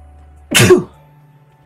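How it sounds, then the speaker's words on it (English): A single short, forceful sneeze turned away from the microphone, close and brief, bursting out over quiet background hum during a Factorio gaming session. "Sneezed in the opposite direction, but you still might have been able to hear it."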